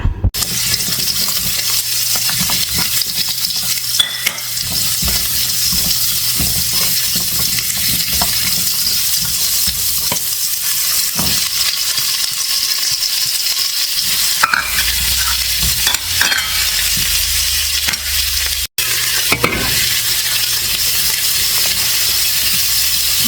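A Filipino home broth, sabaw, cooks in a pot, with loud, close stirring and scraping over a continuous sizzle, a few clanks and a short watery stretch, and no talking.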